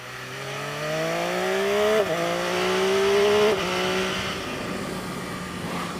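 An MV Agusta F3 675 motorcycle on a test ride revs up through quick-shifted gears, its loud engine note climbing in pitch, dropping briefly at each shift, then settling into a steadier rushing drone, close by with no talk.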